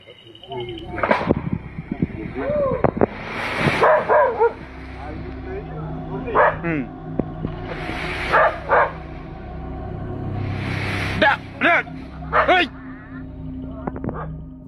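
A scared dog in purported wild Tennessee footage barks and yips repeatedly in short bursts, close and loud, with whimpering between barks and a voice speaking over it.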